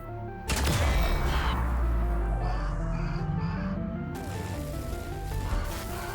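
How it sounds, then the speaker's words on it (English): A sudden loud boom opens into a long rumbling roar that lingers and slowly fades, a heavy far-off explosion in the video game Grounded, with constant background noise. "Did you hear something that sounded like a big far-off explosion?"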